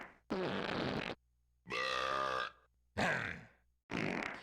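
Four cartoonish fart and burp sound effects from the video game Rampage: Total Destruction, each a loud raspy blast lasting about a second, separated by short silences.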